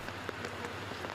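Heavy rain falls steadily during a flood evacuation in Makassar, a dense, even patter of drops striking surfaces, close and constant with no pauses or voices.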